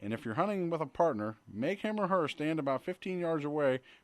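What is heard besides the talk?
No everyday noise stands out behind the speech.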